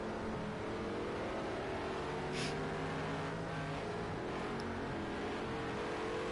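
Race car engines from Project Cars 2 drone on in a continuous, steady whine with a faint passing whoosh midway, no voices heard.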